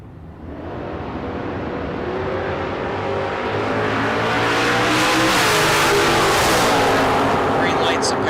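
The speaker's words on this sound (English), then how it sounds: "now he's making a time run in his 70 Nova bracket car" A 1970 Chevrolet Nova bracket car launches down a drag strip, its engine roaring louder and climbing in pitch as it accelerates away, with an announcer talking over the noise.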